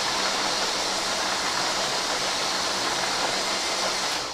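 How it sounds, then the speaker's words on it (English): Blender briefly whirring through a mango ice cream mixture, a steady close broadband roar running without break for a few seconds, with no talk. "So I'm going to just blend it for a few seconds, constantly stirring it"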